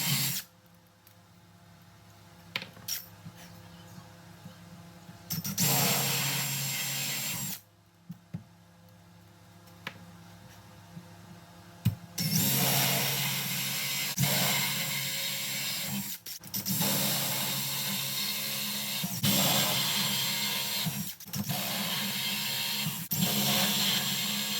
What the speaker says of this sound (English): So I went ahead and drilled these all out.